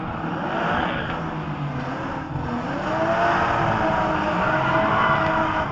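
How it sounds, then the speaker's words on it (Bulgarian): A car doing a burnout at Tuning Show Sofia 2012, a loud, steady roar of engine and spinning tyres that swells slightly toward the end, with no talk over it. "се казва един истински бърнаут"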